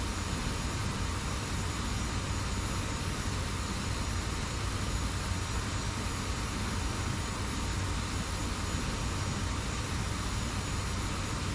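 An F-86 jet aircraft flying fast, a loud, constant roaring rush of engine and wind noise with a steady high whine, unbroken throughout with no talk.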